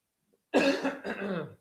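A single close cough in two quick bursts breaks out of near silence, then stops abruptly.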